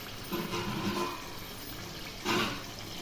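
A small glass of water goes into a pot of cooking tamarind stew, heard as two brief, soft splashing rushes of liquid separated by a quiet lull, fairly faint and without speech.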